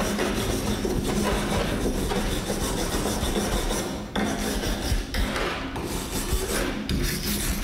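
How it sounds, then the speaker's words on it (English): A wire brush scrubs rusty metal with loud, continuous rasping strokes, close and unbroken except for brief pauses. "Lightly brush it with a wire brush"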